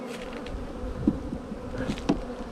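Honeybees buzz around a hive during beginner swarm-prevention work, a dense, continuous close hum with a couple of louder passes as individual bees fly near.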